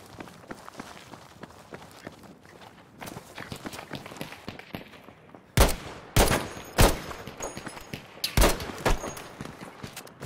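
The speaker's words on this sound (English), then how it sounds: "I'm getting shot at." Sporadic gunfire in Battlefield V, scattered shots and footstep-like clatter at first, then several loud, sharp bursts close by in the second half, with no talking.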